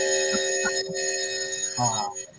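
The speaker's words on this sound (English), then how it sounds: "I'm clearly at school, and Jeremy laughed earlier when he heard the bell." A school bell rings with a sustained, steady metallic tone that carries through the whole moment while a person talks over it.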